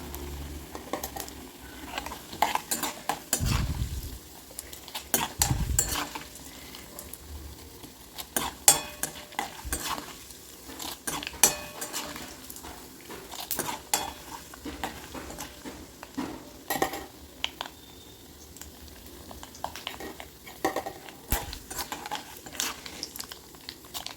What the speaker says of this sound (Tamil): நல்லெண்ணெய் சேர்த்ததுனால பொங்கிக்கிட்டே தான் வரும்